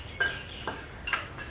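Dishes and utensils being washed in a kitchen set up for cooking a festival offering, with three separate light clinks and clatters of metal against metal over a low background hum.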